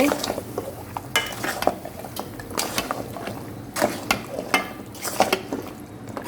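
A spoon stirs beef paya (cow trotters) through a melted tomato masala in a pot, making repeated scraping and clattering strokes in an uneven rhythm over a low simmering sizzle.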